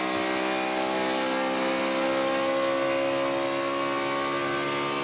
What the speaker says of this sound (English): How's that horsepower sound, Phil?